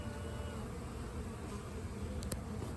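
A honey bee swarm fanning at the entrance of a box during a hive capture gives a steady, dense buzzing drone, close and continuous with no talk.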